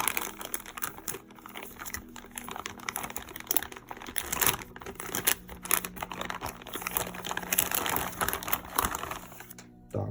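Crinkling plastic bag rustles and crackles in irregular bursts close up as Sennheiser HD 560S headphones are unpacked, with clicky handling noises throughout.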